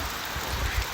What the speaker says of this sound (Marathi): पावसाचा जोर वाढलाय थोडा, मस्तपैकी पाऊस चालू झालाय.